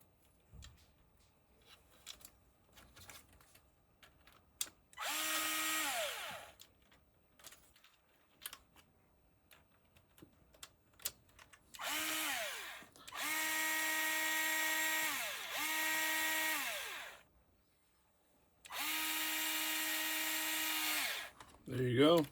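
A power drill drives screws into a Mini Kraton rear shock tower, several whining runs of a few seconds each that rise and hold steady, separated by quieter handling clicks and rustles.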